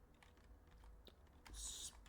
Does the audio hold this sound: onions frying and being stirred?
no